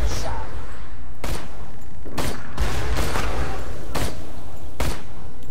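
Sharp, loud gunshots from a Borderlands 2 firefight crack out in an irregular run of about six separate blasts, each ringing briefly, over a steady game background with no talk.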